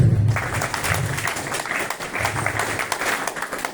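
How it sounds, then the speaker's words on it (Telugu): A seated audience at a dental college awareness meeting claps together in short repeated rhythmic bursts, a dense wash of hand claps that swells and dips in a steady pattern. "నేను రెడీ అన్నప్పుడు మీరు క్లాప్ చేయాలి ఎలా అంటే వన్ టూ త్రీ"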